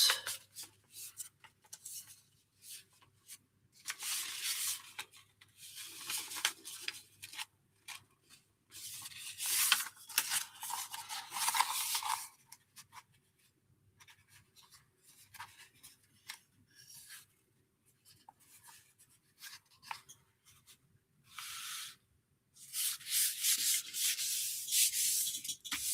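Sheet of paper being folded into thirds and creased for a junk journal, heard as intermittent close rubbing and sliding bursts separated by quiet pauses.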